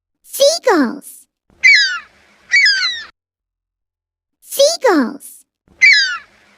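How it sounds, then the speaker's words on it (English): Seagulls call in clear, close bursts: sharp descending squawks followed by a few shorter cries, a pause, then the same pattern repeated. "Seagulls."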